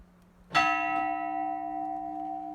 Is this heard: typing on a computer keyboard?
no